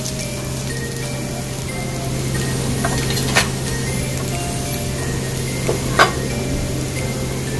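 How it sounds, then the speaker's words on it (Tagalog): Garlic sautéing in a pan as the first step of a spinach and scrambled egg stir fry, a steady close sizzle with a couple of faint clicks, no talk. "Babanguhin natin ang ating bawang."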